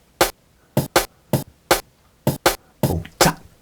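A programmed drum-and-bass two-step pattern made in Ableton alternates kick and snare hits in sharp, evenly spaced pairs, about ten crisp strikes over a few seconds with silence between them.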